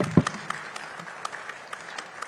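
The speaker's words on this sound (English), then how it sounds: "I think he deserves a round of applause there." Audience at an India climate summit panel on extreme heat gives a round of applause, a moderate steady patter of many hands clapping for a couple of seconds with no talk over it.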